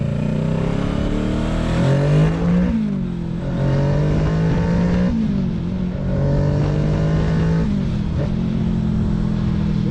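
A Kawasaki Ninja 650 motorcycle, 40th Anniversary Edition in restricted A2 form, revs up repeatedly through the gears. The engine note rises and falls in several loud, close pulls that continue without pause.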